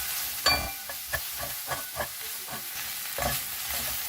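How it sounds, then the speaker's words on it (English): Okra fry in a pan gets stirred after red chili powder is added, with a soft sizzle beneath a series of distinct spatula scrapes and knocks spread across the clip, no talking. "let's add in the last ingredient, the red chili powder, and stir it in"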